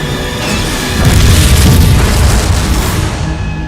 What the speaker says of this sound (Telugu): వార్నింగ్, ఇంకా 12 సెకండ్లలో బాంబు పేలబోతుంది.